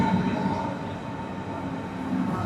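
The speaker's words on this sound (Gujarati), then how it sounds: "એક ટ્રેન આવી ગઈ છે" A train pulling into a station in Germany, a steady low rumble and hum of rolling rail cars filling the short stretch with faint talk underneath.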